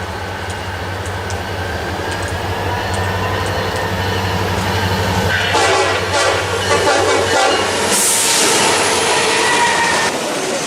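A fast train roars past with a steady rumble under a long sounding horn, growing brighter and louder partway through as the cars rush by close at hand.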